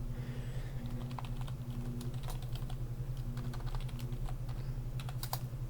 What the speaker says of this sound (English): So you type in family reunion date.